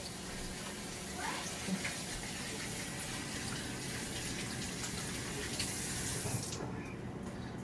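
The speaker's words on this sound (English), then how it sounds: "Now I'm going to wash my hands because he is absolutely covered in lotion" A tap runs steadily while hands are washed under it, a continuous close splashing gush that stays even before cutting off near the end, with faint voices in the background.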